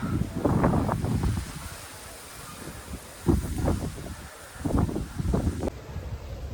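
Strong wind in Amasya, Turkey, buffets the microphone in rumbling gusts, rising and falling, with rustling noise throughout.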